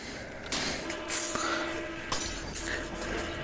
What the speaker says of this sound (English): I just hear my glass shattering, echoing in my screen.